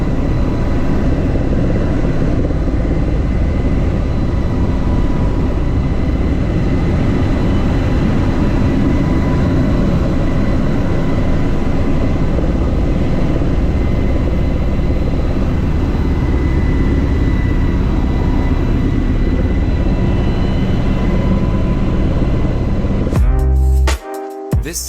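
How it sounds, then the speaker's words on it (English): A low-flying helicopter passes through a valley in New Mexico, its engine and rotor making a loud, continuous roar that holds steady for a long stretch before cutting off abruptly near the end. "This low-flying helicopter flying through a valley in New Mexico."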